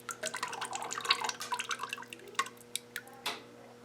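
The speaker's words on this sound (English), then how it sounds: "I'm going to demonstrate pouring again." Glaze is poured into a ceramic mug, giving a quiet run of liquid splashes and drips that trickle and patter irregularly, close and soft.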